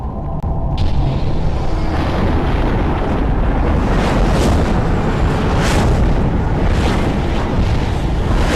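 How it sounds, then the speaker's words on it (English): Strong, steady wind roars and rushes in Sky: Children of the Light, a loud continuous gusting with buffeting swells, with no voices over it. "The wind is very strong here and is pushing my tiny body back down the hill."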